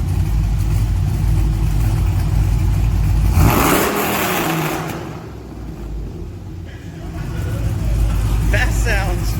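Ram 1500 pickup fitted with DynoMax Race Bullet mufflers rumbles at a deep idle, then is revved hard in one loud throaty burst that falls back to a steady rumble, with voices nearby.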